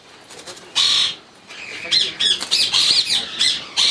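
Indian ringneck parrots at a breeding farm squawk loudly and close, giving harsh repeated shrieks in uneven bursts with chirps between, and a few people talk in the background.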